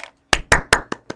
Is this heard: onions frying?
no